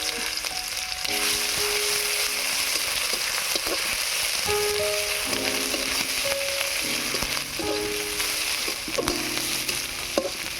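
Dried red chillies and garlic paste fry in mustard oil for a tempering, with a steady sizzle and crackle throughout and soft background music over it.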